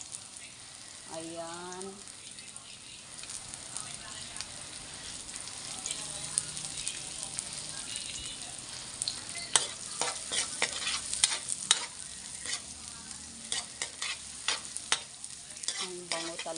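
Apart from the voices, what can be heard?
white onion frying with garlic in a large wok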